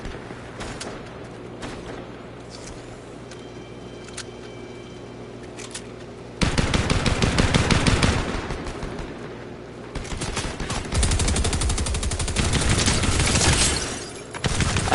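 Fortnite gunfire: sparse single shots at first, then dense rapid bursts of automatic fire in long stretches, fairly loud and alone with no talk.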